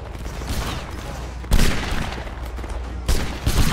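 Massed musket volleys ring out in a Napoleonic Wars battle game, Kingdom of Spain against Regno d'Italia, with a continuous crackle of line fire and two sharper loud bursts standing out above it.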